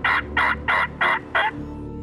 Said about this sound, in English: we hear a gobbler